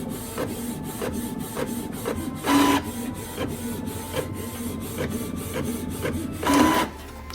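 An inkjet printer prints packaging for press-on nails onto cardstock, giving a steady mechanical whirr with repeated clicks and ticks as the head shuttles and two louder feed pulses sound, near and alone.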